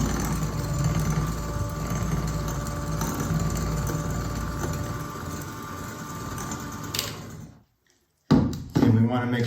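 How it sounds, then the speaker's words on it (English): A hand mixer beating brownie batter, a continuous whirring motor hum with rattling beaters that holds steady for several seconds, then cuts off, followed by a brief clunk. "I prefer to use a hand mixer whenever I can."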